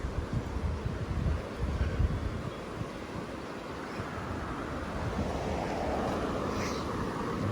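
The Chucky River flows beside the Appalachian Trail, a continuous broad rush of water mixed with gusty wind buffeting the microphone, with no talking.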